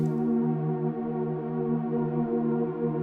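A sustained Pad Shop synth pad holds a smooth, steady chord with soft, slowly shifting tones, no rhythm and no voices.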